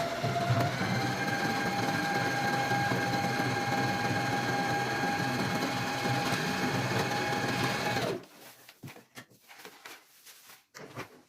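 A sewing machine runs a continuous, even stitch along a narrow casing for a ribbon on a fabric teapot cover, then stops abruptly, leaving only faint handling noises.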